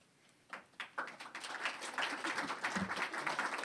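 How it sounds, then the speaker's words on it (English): Applause at a school board meeting starts with a few scattered claps, then swells into a full, steady round from the room that carries on to the end. "It's not usually such a big round of applause"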